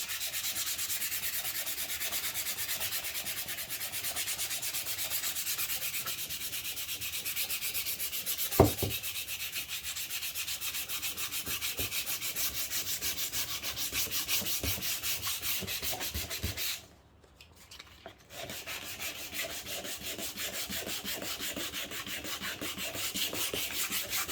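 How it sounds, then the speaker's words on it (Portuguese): Steady hand sanding of a wooden pallet project with an antique demolition-style patina finish, a close continuous rubbing scrape with a few sharp knocks and one brief pause near the end. "E aqui tá todo lixado o meu projeto"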